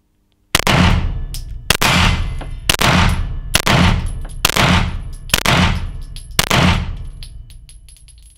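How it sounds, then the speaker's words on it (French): Seven sharp gunshots from a Springfield Armory Echelon pistol fitted with a red dot sight, fired in quick succession about one second apart. Each loud crack rings out briefly before the next, with no talking. "on va regarder maintenant le relèvement avec un tir rapide"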